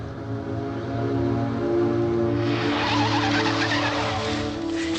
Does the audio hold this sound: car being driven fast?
yes